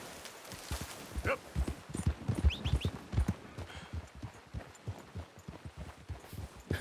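A horse's hooves beating a quick, uneven rhythm on a road in Red Dead Redemption 2, moderately close, with faint spoken voices in the background.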